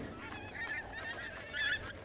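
Geese honking on the Alaskan tundra at their spring nesting grounds, a few faint nasal honks at middle distance over a quiet background, no voices.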